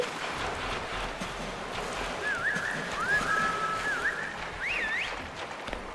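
A short melodic whistle rises and falls over a windy, noisy background in the video game The Classroom, a few wavering notes toward the end.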